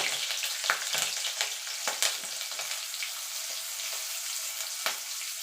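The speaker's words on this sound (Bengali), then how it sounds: "ফোড়নটা একটুখানি ভাজা ভাজা করে নেব" Nigella seeds and slit green chilies crackle and fry in hot oil, a steady bright sizzle with scattered sharp pops and occasional stirring scrapes, close and alone.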